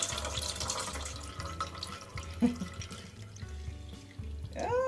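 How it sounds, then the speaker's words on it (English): Distilled water poured into a pot of boiled-down chamomile tea mixture for a homemade lotion, a soft trickling stream with light splashes and drips, close and fairly quiet, ending in small bubbling gurgles. "I'll use water, distilled water, to make up the difference"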